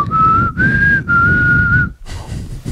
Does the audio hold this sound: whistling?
yes